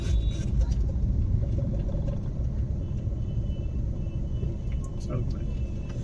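A car engine rumbles low and steady throughout a beginner's driving lesson as the clutch is pressed and released, with an instructor talking over the engine noise.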